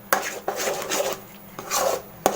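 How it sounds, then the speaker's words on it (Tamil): Ashoka halwa with almond powder is stirred in a pan, a spatula scraping the bottom in a few brisk, gritty strokes with sharp taps against the pan, close and clear. "பாதாம் பவுடர் கொட்டி நல்லா கிண்டிக்கோங்க"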